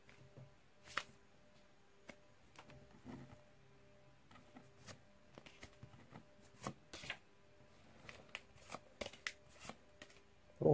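Pokémon card packs being opened and the cards shuffled through, giving quiet intermittent crinkles, flicks and slides of card stock that grow busier toward the end, with an occasional soft word nearby.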